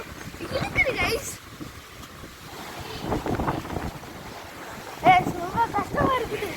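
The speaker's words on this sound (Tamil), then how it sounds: "பயங்கரமாக காத்தடிக்குது கைஸ்" Strong gusts buffet the microphone on Kanyakumari beach, rumbling and surging in uneven waves with surf behind, while someone talks intermittently over the wind.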